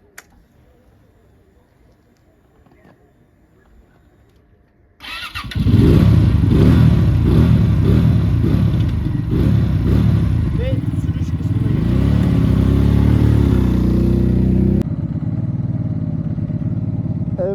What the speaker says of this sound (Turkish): Şimdi motorun sesini duyalım.